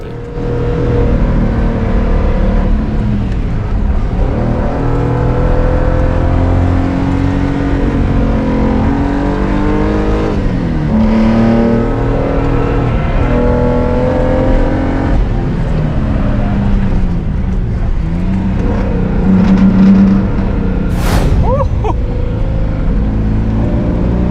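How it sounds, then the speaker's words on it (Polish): A powerful Datsun 280Z engine roars and revs loudly and continuously on a race track, rising and falling through gear changes as it races along. "Słychać ten warkot silnika"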